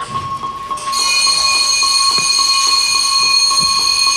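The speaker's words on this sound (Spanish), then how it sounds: "Alarma." Fire station alarm at a volunteer fire station in Chile: a steady, loud electronic alarm with several sustained high ringing tones that switch on abruptly after a quiet moment and hold without a break.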